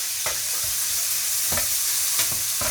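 Cumin seeds and spices sizzle loudly in hot oil in a pan, a steady dense frying hiss with a few scraping stirs of a spoon, no voices.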